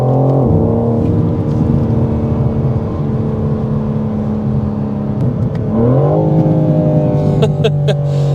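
A 2025 BMW M4 Competition's S58 engine drones steadily at high revs, then its pitch dips and climbs again as it revs up, loud and continuous, heard from inside the car with the roof up.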